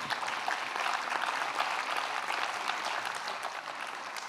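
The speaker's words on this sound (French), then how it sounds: "On peut, dans un premier temps, applaudir nos intervenantes." Audience at a national conference applauding the speakers, a steady dense wash of many hands clapping throughout, fairly distant and even, with no talk over it.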